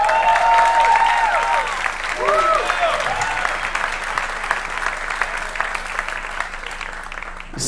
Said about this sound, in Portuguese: Eu queria que você aplaudisse pela vida do nosso querido Sérgio Santos